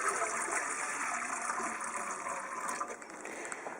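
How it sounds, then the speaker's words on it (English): Water pours steadily and close by into a ball python's enclosure, a continuous splashing gush lasting the whole few seconds with no talk. "So I'll just give her a little water."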